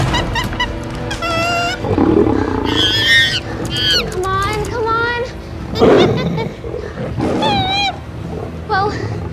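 Lions give deep, rough roars and growls, loud and close, with other animal-like calls layered between them and speech-like voices running throughout.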